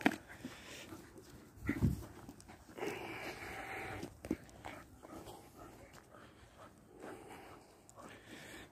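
Soft, intermittent whimpers and snuffling from dogs at an animal shelter close by, with small bursts of movement in between; fairly quiet overall.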